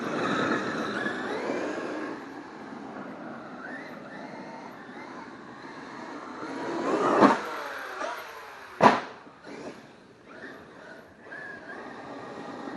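A Traxxas X-Maxx RC car runs laps around a small circuit without stopping, giving a continuous broad motor-and-tire rush that swells and fades, with two sharp bangs like bumps or landings midway.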